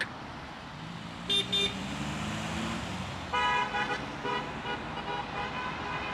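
Several car horns honk at close to middle distance in Sheffield, a short toot followed by a longer cluster of overlapping blasts over steady traffic noise.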